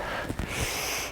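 A forceful, breathy exhale during a gentle standing mobility warm-up, close and fairly steady, with a few soft puffs of air and no talking.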